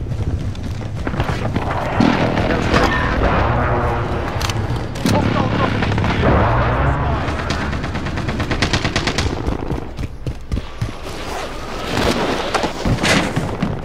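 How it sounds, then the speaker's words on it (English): An airstrike in a chaotic multiplayer shooter game, rumbling explosions and rolling booms mixed with bursts of rapid gunfire, loud and continuous, with players talking over the noise. "Enemy position airstrike. Take cover."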